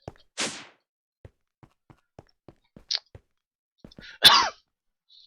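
A man's cough rings out near and alone, one short burst early, followed by faint thumps and a second harsher throat-clearing sound near the end.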